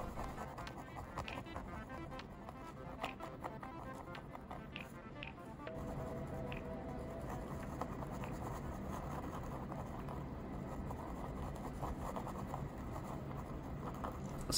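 A glitter gel pen scratches and taps steadily across paper in quick, light strokes, close up and quiet against a soft background hum.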